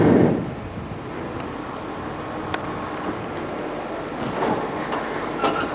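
Stuttgart tram in 1986 rolling past with a broad rushing rumble and faint metallic squeals from the rails, steady and moderately near.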